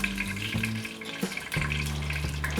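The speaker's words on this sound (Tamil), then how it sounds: "முந்திரி பருப்பு தாளிச்சுக்கிறேன்" Cashews frying in hot ghee for jeera ghee rice, a steady crackling sizzle in the pan with a few clinks of a spoon stirring, close and continuous with no talking.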